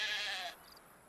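A sheep bleats in the video game Black & White 2, one short, bright, wavering call that fades after about half a second into quiet game ambience.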